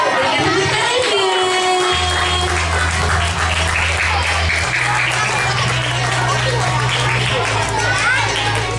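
Audience applause at an evening Ramadan children's award ceremony at a mosque, sustained clapping from a crowd over a low steady hum, with some chatter.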